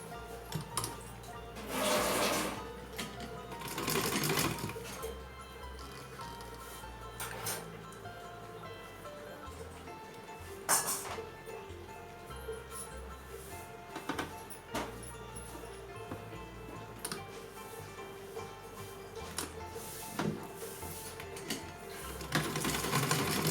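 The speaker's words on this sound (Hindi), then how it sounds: "यहाँ हम एक एक सिलाई लगाएंगे" A sewing machine stitches a small dress for a Laddu Gopal idol in bursts of rapid mechanical running, pausing between seams, with quieter handling sounds in between and no talking.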